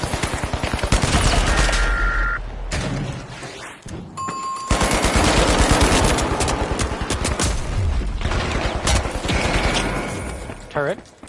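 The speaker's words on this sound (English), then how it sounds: "Turret, turret, turret." Turret gunfire in the video game The Finals, sustained loud rapid automatic bursts with a brief pause before firing resumes, dense and continuous over most of the stretch.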